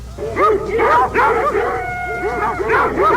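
Several dogs whimper and yip in close, overlapping bursts, a loud, whining chorus of rising and falling cries with short yelps between.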